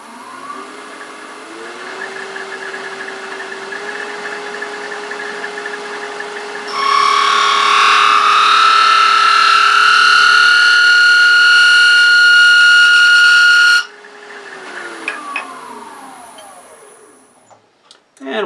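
A wood lathe spins a wooden spin top at speed, a steady motor hum that grows louder and harsher as a tool cuts for several seconds, then eases back and winds down.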